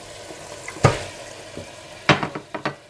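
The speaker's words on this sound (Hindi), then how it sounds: "जब कीमा अच्छा सा गल जाए और पानी खुश्क हो जाए तो आप इसमें डाल दें चॉप्स" Mutton chops going into a pan of cooked, dried-down mince, giving a sharp clatter and sizzle followed by a burst of stirring scrapes and spatters, close and fairly loud.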